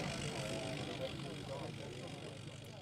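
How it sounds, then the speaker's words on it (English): A 50-horsepower Gnome rotary engine on a vintage aircraft at Shuttleworth runs in a loud, steady, rough drone that holds without a break throughout. "rotary engine. You can hear that very distinctive sound."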